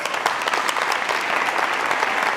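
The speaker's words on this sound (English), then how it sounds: "Directed by Rob Swenson and Casey Brown, let's give them a round of applause." Loud, close applause from parents at a school meeting, honoring the directors of after-school performing arts programs; dense, continuous clapping throughout with no talk.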